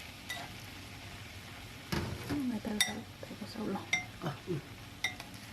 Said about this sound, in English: Mix it through the rice with a spoon.